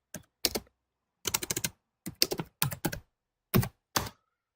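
Computer keyboard typing close up, in seven or eight quick bursts of clattering keystrokes separated by short silent pauses, with no one speaking.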